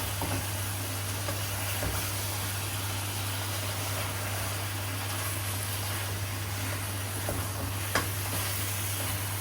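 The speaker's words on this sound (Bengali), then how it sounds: "এখন এটাকে আমি একটু নেড়ে চেড়ে মিশিয়ে তারপর ঢেকে দিব" Bottle gourd and shrimp curry being stirred in a pan, a steady dense sizzle with a low hum underneath and only a few faint utensil knocks, the last one sharper near the end.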